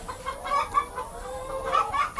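Several chickens on a poultry farm cluck in quick, overlapping bursts while pecking around a dirty drinking-water tray, close and moderately loud with no talking.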